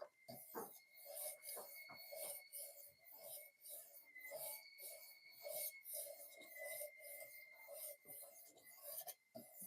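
A knife blade is drawn across a fine 800 grit sharpening stone in repeated quick rasping strokes, each a soft scrape close by with short pauses between, fairly quiet and without speech.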